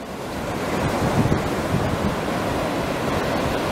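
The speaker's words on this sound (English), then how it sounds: "Even here at the beach, Daytona Beach." Ocean surf rolls in at Daytona Beach with gusty wind buffeting the microphone, a constant roar of breaking waves close by and no voices.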